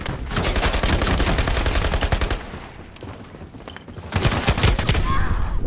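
Rapid automatic gunfire in the online shooter Ironsight, loud sustained bursts of rattling shots that ease briefly in the middle before another heavy burst resumes.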